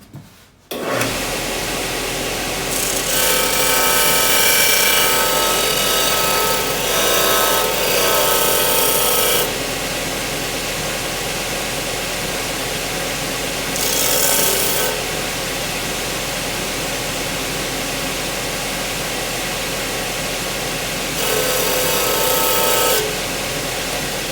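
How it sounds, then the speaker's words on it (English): A reamer works pin holes in the handle of a knife made from a file. It gives a loud, continuous grinding drone with several harsher surges of rasping, and no one speaks. "take a reamer and ream these holes out so these pins will fit"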